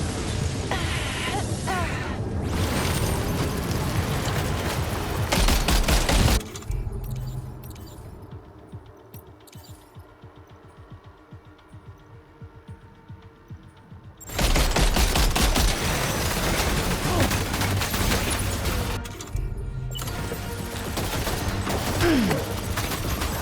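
Sustained automatic gunfire rings out in the video game Death Stranding 2: On the Beach. Loud, dense bursts last about six seconds, then a quieter lull, then another long barrage.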